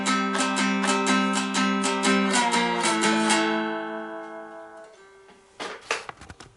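Slide dulcimer picking the first two bars of a twelve-bar blues, with bright plucked notes in a quick steady rhythm and a slide between notes, then ringing out and fading, close and clear.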